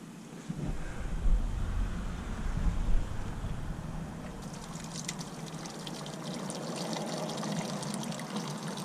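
Coolant being poured during track preparation, a steady watery pour and trickle that runs close by through the whole stretch with a light breezy hiss, and no talking.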